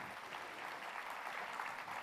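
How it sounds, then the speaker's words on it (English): Audience of parents applauding students at a school annual day, a steady, faint wash of many hands clapping from a distance. "All of them do deserve a round of applause, parents, and congratulations to them"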